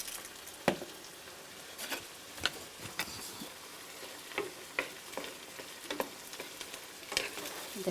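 Peppers fry in a pan for peperonata, a soft continuous sizzle broken by scattered sharp pops and crackles and a few stirring clicks, close and fairly quiet, with no talk.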